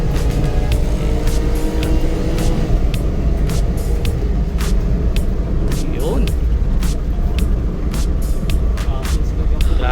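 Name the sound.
Suzuki DA17V turbo engine accelerating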